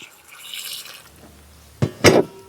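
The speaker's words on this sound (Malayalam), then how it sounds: "ചക്ക ഒടിയൊന്ന് കഴുകിയെടുക്കാം നമുക്ക്" Jackfruit pieces are washed by hand in water outdoors: soft sloshing early on, then two distinct louder splashes close by near the end.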